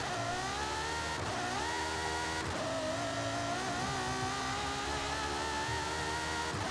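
A Ferrari engine in Forza Horizon 5 revs high and hard, pitch climbing and dipping through gear shifts in a loud, continuous drone.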